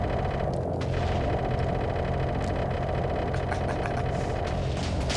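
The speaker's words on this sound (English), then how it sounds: "you can just kind of spam bombs like this" Bombs from a Minecraft Flans Mod bombing run explode in a continuous, heavy rumbling roar with dense booms blending together. The sound stays loud and steady throughout, with no talk.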